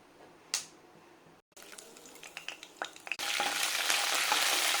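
A quiet pan, a few small pops and crackles, then a sudden loud steady sizzle as tempering spices hit hot oil nearby.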